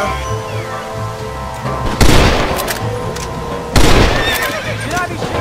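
Gunfire in Red Dead Redemption, two loud, sharp blasts a couple of seconds apart, each ringing out over a horse's whinny and hoofbeats and a low musical bed.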